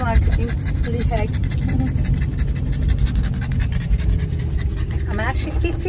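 A dog pants in fast, steady, rhythmic breaths close by outdoors, continuing throughout while a person talks over it.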